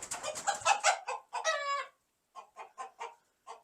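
A rooster in a backyard chicken coop, agitated during a mite treatment at sunrise, gives a burst of loud, close, rapid clucks and squawks, goes briefly quiet, then resumes with shorter agitated clucks.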